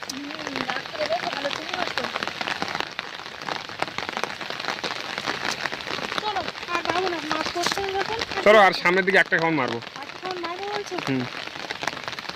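Steady heavy rain patters on a surface throughout in the Sundarbans, with someone talking over it in the foreground.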